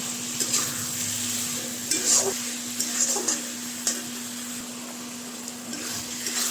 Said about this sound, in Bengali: একটু নেড়ে দিই ভালো করে একটু জল দিয়ে দিয়ে নাড়বেন এই মশলাটা একটু ভালো করে ভাজ